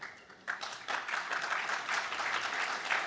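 A small audience applauds at an event, a moderate wash of clapping that starts thin, swells after about half a second and holds steady, heard slightly distant and without speech over it.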